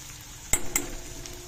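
Okra being stir-fried in a pan, with a low steady sizzle under two quick metallic clinks of a spoon against the pan, close by.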